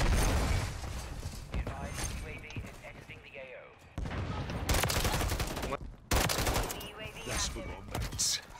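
Gunfire in the shooter Modern Warfare 3, loud bursts of automatic fire and sharp shots in several dense volleys with short gaps, while a player talks excitedly over the shooting.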